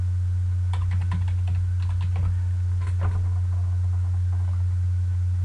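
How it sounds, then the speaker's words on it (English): Keys on a computer keyboard clatter in quick uneven bursts as a search is typed, with pauses between runs and a steady low hum underneath. "let me find an image now let's just type in uh,"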